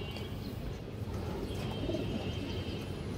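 Pigeons coo softly in low, rolling murmurs amid steady background noise, the calls somewhat faint and blended together.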